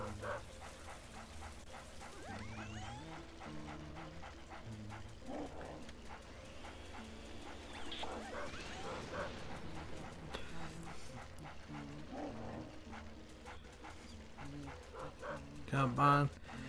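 A dog in the Luigi's Mansion video game barks, yips and whimpers repeatedly alongside the game's music and effects, steady and continuous beneath a player's quiet talk.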